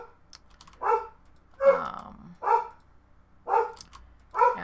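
A pet dog barking at home, five evenly spaced, mid-distance woofs with short pauses between them and faint keyboard typing in the background.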